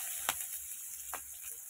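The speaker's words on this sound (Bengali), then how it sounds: "এবার দিয়ে দিচ্ছি এই যে পেঁয়াজ লঙ্কা রসুন ফোড়নে।" Onion, chili and garlic hit hot oil for tempering, giving a steady bright hiss with two soft stirring scrapes over under two seconds, heard fairly close and quiet.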